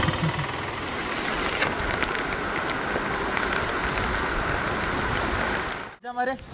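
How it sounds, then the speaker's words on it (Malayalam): Heavy rain sweeping in over a Kerala fishing spot, a dense continuous broadband hiss that holds steady and loud, then is briefly interrupted near the end. "നല്ല കിണ്ണം കാച്ചി മഴ അങ്ങ് അറ്റത്തുനിന്ന് വന്നുണ്ട്, നല്ല കിടിലം മഴ"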